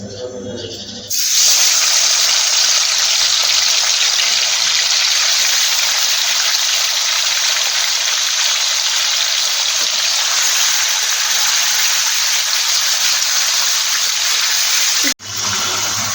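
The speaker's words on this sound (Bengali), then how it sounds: "তেল আর কি গরম হয়ে গেছে আমি এবার চিকেনটা দিয়ে দেবো আস্তে আস্তে করে ছাড়ি" Chicken pieces drop into hot oil and ghee for Chicken Changezi, setting off a loud, steady, hissing sizzle that starts abruptly after a second of quiet, holds for about fourteen seconds, then cuts off sharply.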